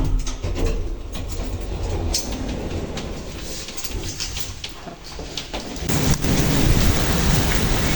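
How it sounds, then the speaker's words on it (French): Heavy rain pouring down, a loud dense wash of hiss and splatter with low rumbling underneath, continuous throughout and swelling stronger toward the end. "Il pleut un peu beaucoup."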